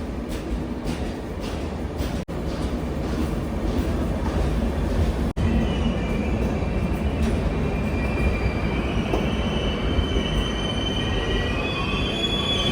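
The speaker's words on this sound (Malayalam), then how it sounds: "നമുക്ക് പോകാനായിട്ടുള്ള ട്രെയിൻ വന്നു" A passenger train rolls into a station with a loud continuous rumble, screeching wheel squeals rising toward the end as it slows, close by and without talk.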